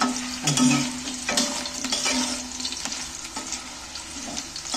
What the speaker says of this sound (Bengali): এবার আলুগুলোকে তেলের মধ্যে নাড়াচাড়া করে ভেজে তুলে নিব।